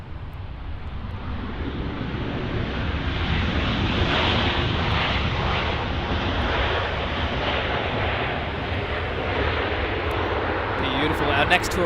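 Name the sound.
airplane taking off at Los Angeles airport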